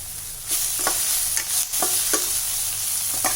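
Green chillies, onion and tomato fry in a pan with a loud, steady sizzle, broken by repeated scraping stirs of a spatula at an uneven rhythm.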